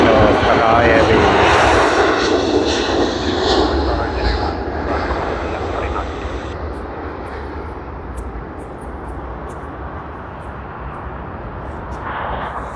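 Qatar Airways Airbus A350-1000 jet departing Sydney Airport, a loud, broad engine roar that is strongest at the start and gradually fades as it moves away, with voices talking over it.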